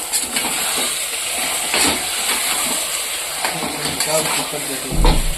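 Mutton curry stirred in a pot over a gas flame, steady sizzling with repeated scraping strokes and a clunk of the pot near the end, loud and close.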